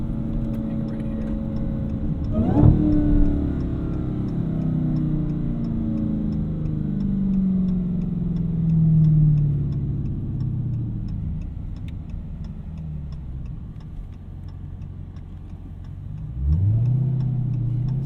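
A 2018 Dodge Demon with 840 horsepower accelerates hard, its engine note climbing in a loud, sustained roar. The pitch drops at each gear change, around the third second and again near the end, then climbs once more.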